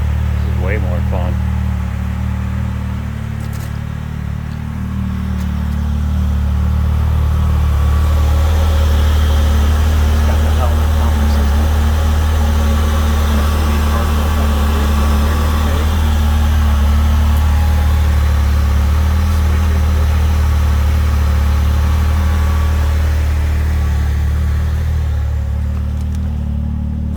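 A Can-Am Maverick X3 turbo side-by-side fitted with a Silber Racing electric exhaust cutout idles with a deep, loud, steady rumble that swells slightly and holds, close to the microphone throughout.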